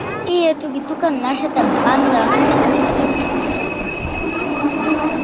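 The Indiana Jones roller coaster train at Disneyland rumbles and clatters past with squealing wheels and loud continuous roar, while people talk and shout over it nearby.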